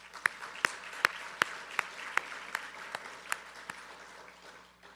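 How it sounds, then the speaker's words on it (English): Sparse, steady claps from a small audience at an annual membership meeting, thanking the vendors, roughly ten distinct hand claps spaced evenly over a few seconds, fairly quiet and alone. "Please join me in a round of applause in thanking them."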